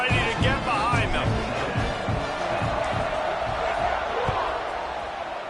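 A football stadium crowd roars and cheers steadily as a kickoff approaches, a broad, loud wash of voices with a commentator talking over it.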